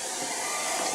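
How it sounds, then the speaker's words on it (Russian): Household-style hair dryer at a water park blowing steadily and close, a continuous broadband whoosh with no pauses and no voices over it. "фен не такой, как в нормальных аквапарках, а вот такой бытовой"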